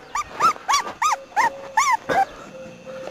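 A small dog gives a rapid series of about eight short, high, yelping barks mixed with whimpers, close and fairly loud, followed by a faint thin whine at the end, with no talking.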